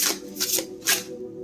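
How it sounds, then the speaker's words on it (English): A deck of gold-edged cards is shuffled close up in three quick riffling bursts with short pauses between them, crisp and alone with no talk. "I love these cards. They shuffle so nice."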